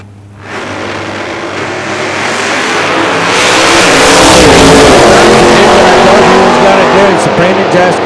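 Big-block drag race cars, one with a 460 engine, launch and roar down the strip at a season-finals event, loud and building to a sustained high-revving blare with crowd noise underneath.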